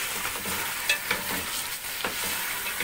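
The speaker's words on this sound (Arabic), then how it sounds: "بحيث ان احنا نسد المسامك بتاعت الفراخ ونديها وش تحمير من بره" Chicken pieces are stirred and fried in butter, a dense, even sizzle with a few soft scrapes of a spoon against the pan, close and continuous with no voices.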